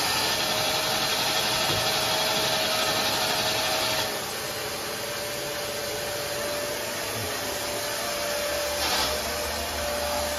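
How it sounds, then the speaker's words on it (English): A vacuum cleaner sucks dirt out of a 6.1 Hemi engine bay, a loud continuous whooshing roar with a steady whine and slight shifts in tone, no talking. "He's vacuuming all the dirt out."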